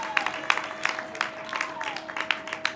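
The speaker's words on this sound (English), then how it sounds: "give her another round of applause." A small audience at the Bijou School graduation gives a light round of applause, with sparse individual claps rising over a steady background hum.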